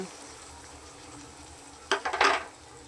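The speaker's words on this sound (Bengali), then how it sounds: "এই যে অল্প জল দিয়ে দিচ্ছি" A little water hits hot bottle gourd and shrimp in a pan, bursting into a loud crackling sizzle near the end after a quiet, steady frying hiss.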